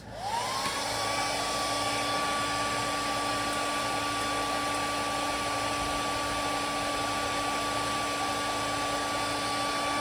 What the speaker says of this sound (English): Hair dryer incoming in 3, 2,